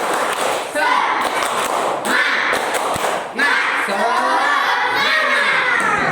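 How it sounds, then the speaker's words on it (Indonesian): A class of schoolchildren does rhythmic spirit clapping in a classroom, with dense, loud patterned claps blended with excited shouting and group voices throughout. "Tepuk semangat"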